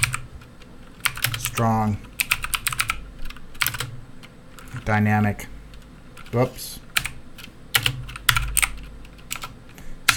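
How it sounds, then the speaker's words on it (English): Fingers type on a computer keyboard in scattered bursts of quick clicks, close and moderately loud, with someone briefly speaking between them. "Excuse my typing here"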